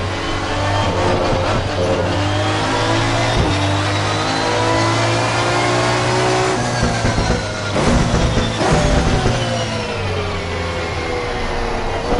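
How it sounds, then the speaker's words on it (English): Race car engines in the video game Assetto Corsa Competizione scream past one after another during a qualifying session, revving high and sweeping in pitch over a constant loud engine roar. "you get those cars screaming by"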